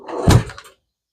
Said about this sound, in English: Go to my electronic drawer.